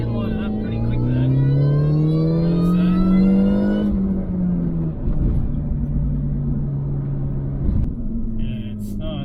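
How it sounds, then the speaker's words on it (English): A supercharged Mini Cooper S with a 15% pulley upgrade accelerating hard, its engine note climbing steadily toward redline, loud and close from inside, then a shift and renewed rumbling pull, with a voice speaking over it. "It's this constant push all the way to the red line."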